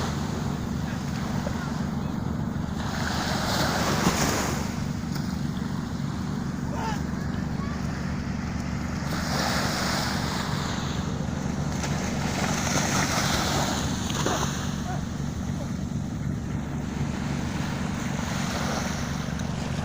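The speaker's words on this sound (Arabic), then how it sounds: "هذا مركب تاع صيد سمك سردين" A traditional sardine fishing boat moves through the harbor at Safi at sunset, giving a steady, continuous wash of water and engine rumble with wind noise throughout, while someone talks over it.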